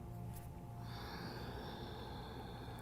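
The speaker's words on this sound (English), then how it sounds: "I'm using Ujjayi breathing, so you can probably hear my whispering sound." Ujjayi yoga breathing through the nose makes a soft, airy whispering breath, faint and close, with a steady hiss that thickens partway through.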